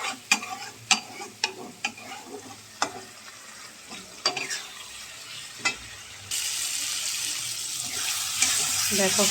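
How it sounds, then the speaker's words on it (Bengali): Spice paste being fried in a pan while cooking a Bengali fish curry: scattered spoon scrapes and clacks against the pan, then a steady louder sizzle takes over partway through, close up with no talk. "দিয়ে মশলাটা ভালো করে কষাবো"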